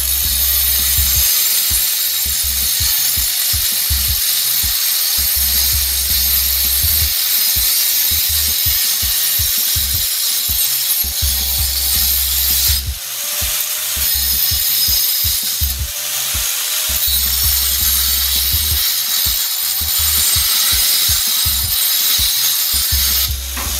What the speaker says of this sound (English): we're going to cut it with our standard 4-inch diamond saw